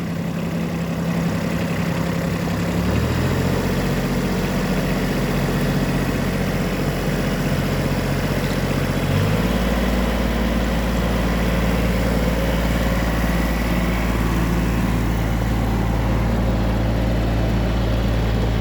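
A used Japanese Hinomoto CX14 mini tractor runs with its tiller engaged. The engine drones loudly and steadily, and its pitch shifts twice as the load changes.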